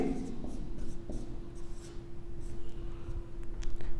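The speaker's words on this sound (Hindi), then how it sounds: "ऑप्शन में आपके लिख देता हूं, ठीक है।" A marker scratches steadily across a whiteboard as options are written out, faint and continuous over a low room hum, with a few soft taps along the way.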